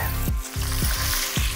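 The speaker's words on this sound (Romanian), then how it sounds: "Turnăm uleiul și punem cărnița la prăjit." Duck meat sizzling and frying in oil in a thick, heavy pan, with a loud, steady crackle and rhythmic dips as the pieces are moved or stirred.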